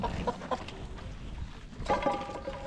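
Chickens cluck softly nearby in short, scattered bursts, with one louder cackle near the end against a low background rumble.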